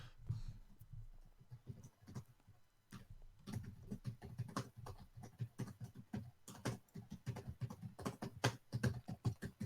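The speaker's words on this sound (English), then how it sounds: "typing ASMR." Typing on a computer keyboard, close and crisp, with rapid irregular key clicks in bursts that grow denser and busier after a brief pause, alone without talk.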